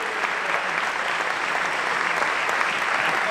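Dense, steady applause from an audience at the Parcs Fans Event 2025 fan evening at Parc Astérix, a continuous wash of many hands clapping at even loudness throughout.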